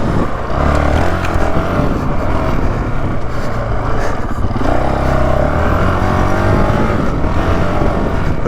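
A 2019 Honda CRF450L dual-sport dirt bike engine drones loudly and continuously, revving up and down through gear changes and dipping low as it nearly stalls, close to the rider.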